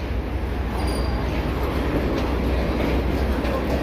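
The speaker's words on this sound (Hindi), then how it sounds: "तकरीबन रफ्तार पकड़ चुकी ट्रेन।" A Green Line passenger train in Pakistan runs at speed, its steady, loud rumble and rushing noise filling the carriage continuously from start to finish.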